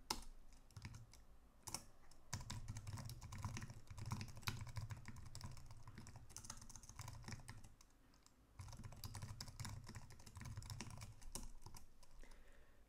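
Someone types code on a computer keyboard in steady runs of soft, close key clicks, broken by a brief pause partway through.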